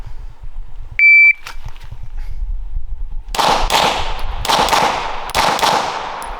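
A shot timer gives a sharp electronic beep, then after a pause six pistol shots ring out in a quick, slightly uneven string, loud and close with echoing tails at an outdoor range.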